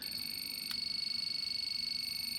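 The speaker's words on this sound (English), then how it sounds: "It sounds like a communication sound" A steady high electronic communication tone from a Power Rangers toy morpher, with a rapid pulsing warble underneath, one brief burst of static near the start, then an abrupt cutoff.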